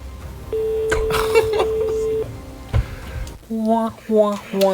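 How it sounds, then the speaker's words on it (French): One long telephone ring tone sounds for about two seconds, then people start talking. "Deuxième sonnerie."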